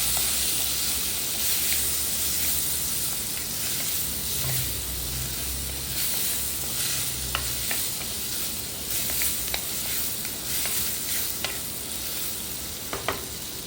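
Onions and small tomatoes with turmeric sauté in a pan for a brinjal gravy, a steady loud sizzle and hiss with occasional stirring scrapes and pops over the whole stretch.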